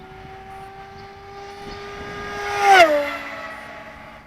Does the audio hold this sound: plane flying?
yes